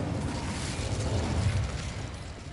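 The Incendio fire spell from Hogwarts Legacy bursts out as a steady, roaring whoosh of flame, loud and unbroken for a couple of seconds with no talk over it.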